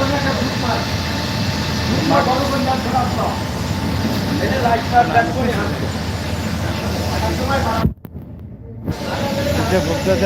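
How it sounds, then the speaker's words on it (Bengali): A passenger launch boat's engine runs with a steady, loud broadband drone that cuts out briefly near the end before resuming, with faint voices in the background. "তেরো লঞ্চ ইঞ্জিন চালাচ্ছে"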